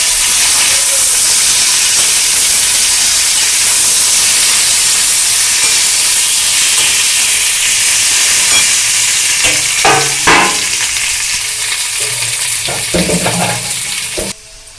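Potatoes tipped into hot oil over a spiced tempering for North Kolkata-style singara filling, frying with a steady loud sizzle and hiss, then clattering stirs and scrapes near the end.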